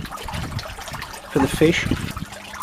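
Water trickles and bubbles into a small fish pond built into a coffee table, a light splashing stream running steadily beneath a voice.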